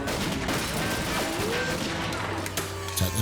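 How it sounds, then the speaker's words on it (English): Automated tracking sentry guns fire in a TV drama episode, a loud, dense and continuous burst of rapid gunfire filling the whole stretch, with voices faintly mixed beneath. "Automated tracking sentry guns."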